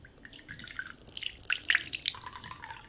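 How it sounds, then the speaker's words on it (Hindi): Normal water poured into small empty bowls, a bright splashing trickle that swells in the middle and then settles to a thinner stream, close and fairly quiet, with no talking. "इनमें अब मैं नॉर्मल पानी डाल रहा हूँ।"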